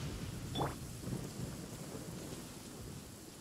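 Thunder rumbles and crackles from a lightning strike in the video game Genshin Impact, with a sharp rising zap near the start over a steady rain-like roar that continues throughout.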